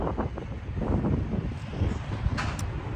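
Steady wind buffets the microphone, a continuous low rumbling roar with gusty fluctuations and no other clear sounds.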